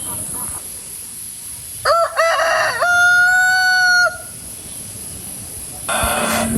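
A rooster crows loudly and nearby in a rural village, one long drawn-out call lasting about two seconds. It stands out against quiet outdoor ambience, with fainter crowing in the distance.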